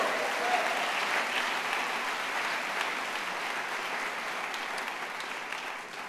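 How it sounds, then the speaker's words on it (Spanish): A church congregation breaks into applause, a broad, even wash of many hands clapping in a large room, steady and moderately distant, easing slightly toward the end. "De un aplauso al Señor."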